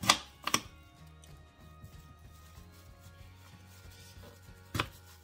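A knife chops through food on a cutting board while a Ghanaian ampesie stew is prepared, with a few sharp knocks at the start, another near the end, and a low steady hum running underneath.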